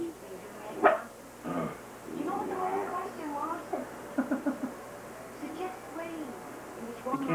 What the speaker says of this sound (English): he's growling at you